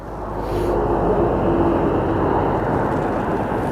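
Airliner being pushed back at Aberdeen Airport, heard as a steady, loud broadband engine and ground-equipment roar with a faint tonal hum, continuous throughout without talk.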